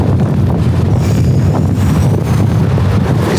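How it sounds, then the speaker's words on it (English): Strong storm wind during Storm Isha around Chester and the Wirral buffets the microphone outdoors, a steady, loud, roaring rush with gusty swells that runs unbroken throughout, with no talking. "It's windy tonight."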